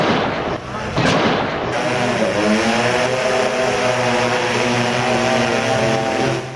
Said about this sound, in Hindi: ये आप देख रहे हैं रुद्र हेलीकॉप्टर।